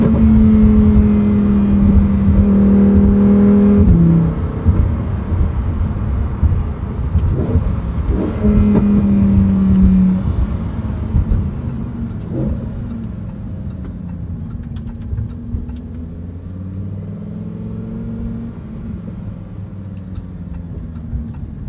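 Lamborghini Huracan STO with its V10 engine pulling hard from inside the cabin, a loud sustained roar rising through gears with brief shift dips, then easing to a lower cruising drone.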